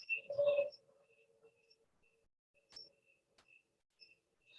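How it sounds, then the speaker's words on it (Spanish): Faint, sparse cricket chirps in a quiet setting, with a brief rustle at the start and a few isolated clicks. "Y los cantos de los grillos."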